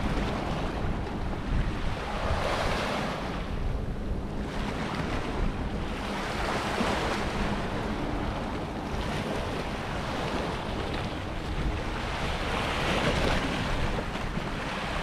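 Waves wash steadily against the shore of a bay on the River Humber behind a cedar fence as the tide comes in, a continuous rolling surf with repeated swells, roughened by wind buffeting the microphone and no talking.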